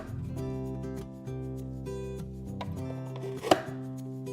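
A stainless steel fruit cutter slices through strawberries on a board, a few soft chopping taps and one sharp clack under a steady tonal hum from background music.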